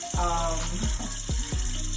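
Hot water runs steadily from a tap to rinse tie-dyed shibori fabric, a loud continuous gush with a few splashy changes as the fabric moves under the stream.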